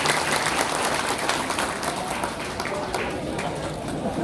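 Sustained applause from a crowd, dense and steady clapping throughout with some voices mixed in, fairly loud and fading slightly toward the end.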